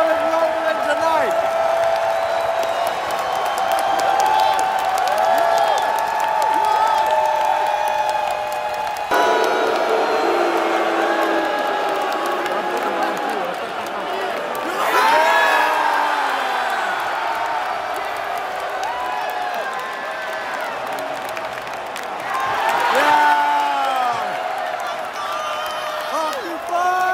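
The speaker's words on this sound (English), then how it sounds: "The crowd is loving it tonight." A wrestling arena crowd cheering at AEW Dynamite, a loud, sustained roar with whoops and swells. People talk close by over the crowd.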